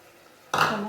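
A sudden loud sizzle bursts in halfway through, a hot crackling hiss after near silence, as ground masala for chicken gravy hits a hot pan.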